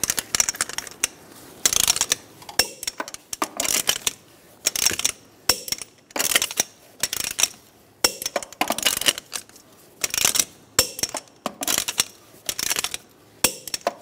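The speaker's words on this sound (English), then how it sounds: "I'm going to torque the wheels to 100 foot-pounds" Torque wrench tightening the lug nuts on the wheels of a 2007-2012 Nissan Altima resting on the ground, set to 100 foot-pounds: repeated bursts of sharp metallic ratcheting clicks close by, each lasting about a second with short pauses between.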